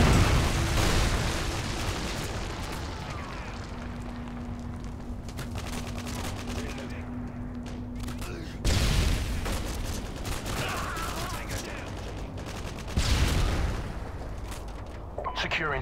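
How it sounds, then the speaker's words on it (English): Heavy explosions from a Predator missile strike in the game Modern Warfare 2, with loud broadband blasts around 9 and 13 seconds over constant gunfire and battle noise. "Friendly Predator missile inbound."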